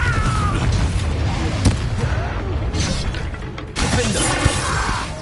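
Confringo, an explosive fire spell, bursts within Hogwarts Legacy gameplay amid a dense, continuous din of combat effects, with a couple of sharp cracks and a heavier blast surging near the end.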